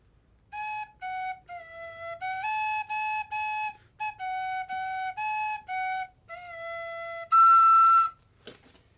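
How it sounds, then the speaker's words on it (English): A bamboo flute, played at a colonial living history camp, plays a clear, close melody of short separated notes, ending with a higher held tone and a brief click. "We have different wind instruments. This is a bamboo flute."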